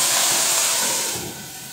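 Wine hits a hot pan holding a ground meat roulade and releases a loud, close steaming hiss that fades somewhat after about a second.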